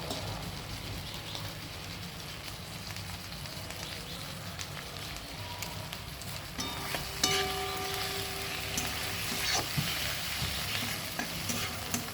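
Prawns fry with spices in a pan, giving a low, even sizzle throughout, with occasional scraping and clinks of a spatla stirring, getting a bit busier in the second half.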